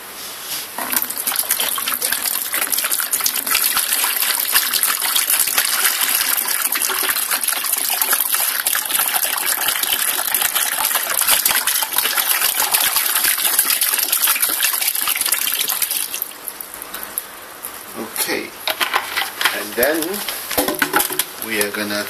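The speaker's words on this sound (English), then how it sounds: "let's just pour the water" About 1.5 liters of water pours steadily into a pail, a loud continuous gushing splash for most of the stretch, then thinning into trickles and drips.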